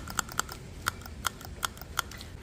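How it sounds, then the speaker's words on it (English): Hole puncher pressed in a quiet room during a thunderstorm ASMR session: six or seven sharp, close clicks and snaps spaced irregularly over a faint background hiss. "If you guessed hole puncher, that was correct"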